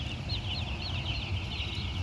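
Broiler chickens in a poultry coop, steady clucking and chirping from many birds at moderate distance over a continuous low hum of farm equipment.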